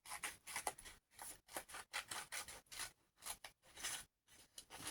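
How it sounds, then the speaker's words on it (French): Paper is torn by hand in a series of short, quiet ripping strokes with brief pauses between them, close and alone without talk. "Et je vais déchirer le papier comme ça."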